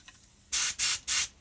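A paint spray gun test-fires three short, loud hissing bursts in quick succession, about a quarter second each, before painting a bear figure; the room is quiet between bursts.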